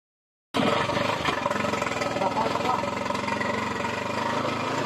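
A motorcycle engine starts up and runs close by, a loud, steady mid-range rumble with slight revving that continues after a brief silence at the start.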